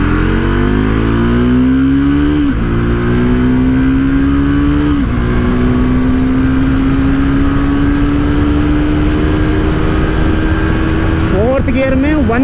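A Triumph Tracker 400 motorcycle engine accelerates loudly and steadily through the gears, its note climbing with each gear and then briefly dropping at the shifts, with a voice heard faintly under the engine and a final rev near the end.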